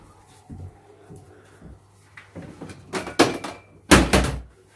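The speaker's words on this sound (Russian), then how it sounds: "Твой автомат упал." Toy gun falling over indoors at a family New Year's table setup: a few soft thumps and clatters, then two louder plastic knocks near the end, close by.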